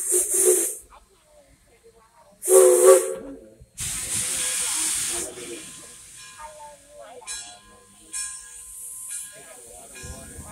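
Dixiana steam train releasing bursts of hissing steam, two short loud blasts followed by a longer sustained hiss, with people talking in between and underneath.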